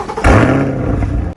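A brand-new car's engine cranks and catches, a brief low rumble that jumps up loudly and then settles into a steady idle, close by and with no talk.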